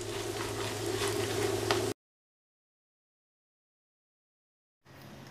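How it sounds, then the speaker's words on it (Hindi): Green chilies and curry leaves frying in hot oil for roasted poha chivda, a close steady sizzle that cuts to silence midway and then briefly resumes. "हरी मिर्च और करी पत्ता तेल में बराबर फ्राई हो जाना चाहिए, क्रिस्प हो जाए तब तक फ्राई करना है।"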